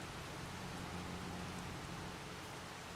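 Steady rain in Farming Simulator 25 keeps up an even, faint hiss of falling drops, unbroken and with no voices over it.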